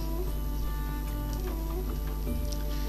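Sewing machine running steadily while stitching hijab fabric, a continuous close mechanical whir with fine rapid ticking and no pauses.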